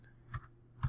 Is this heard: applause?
no